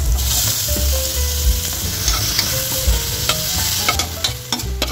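Tomatoes sautéing with garlic and onion in a pan for pork sinigang, a loud steady sizzle with the scrape and clack of a spatula stirring throughout.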